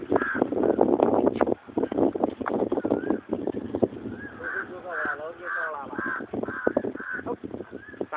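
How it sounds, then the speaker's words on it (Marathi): Crows, including a young one, caw harshly in repeated close calls during a fight with a dog outdoors, with people talking loudly over and between the calls. "हो कळतंय की कावळाच पण कावळ्याचं पिल्लू आहे"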